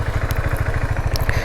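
A Husqvarna motorcycle engine idles close by with a steady, rapid low thumping pulse and slight mechanical clatter, running alone without talk.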